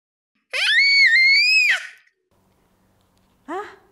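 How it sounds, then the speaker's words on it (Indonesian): A child lets out a loud, high-pitched scream lasting over a second, then a short second cry after a brief silence. "Seorang anak tadi berteriak"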